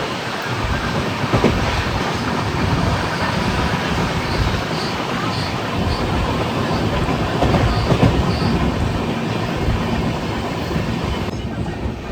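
A train running on rails in West Bengal near Kolkata, heard from on board, rolls on with a loud, steady rumble and rhythmic clickety-clack that continues throughout.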